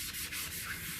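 A print being burnished by hand on a gel press plate inked with etching ink, a short close, soft steady rubbing scrape with no talking.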